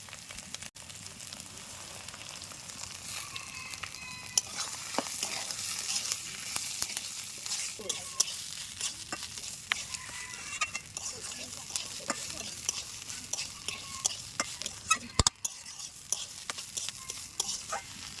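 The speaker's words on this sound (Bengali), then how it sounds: "চালটা ভালো করে ভেজে নিচ্ছি এপিট ও পিট করে সুন্দর করে ভাজতে হবে" Washed, drained Gobindobhog rice stir-fried in cooked-down spice paste for hilsa pulao, with steady soft sizzling and repeated scraping, stirring strokes close by, running throughout without speech.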